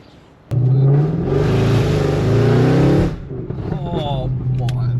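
A Mercedes C63 AMG fitted with long tube headers, a custom exhaust and a tune revs hard and loudly for a couple of seconds, then settles back toward idle with crackles, close up.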